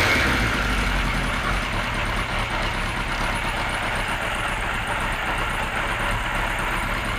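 A Kawasaki Z1 motorcycle engine idles low and steady at about 500 rpm, a continuous rumbling tick-over with no revving and no voices.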